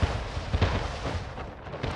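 Bombing explosions in the city-building game Anno 1800, a short run of deep rumbling booms and blasts in quick succession, loud and close, with no talk.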